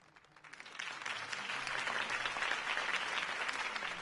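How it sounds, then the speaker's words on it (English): A crowd breaks into applause that swells quickly and holds steady, a dense wash of clapping hands with no voices standing out. "could have heard that applause"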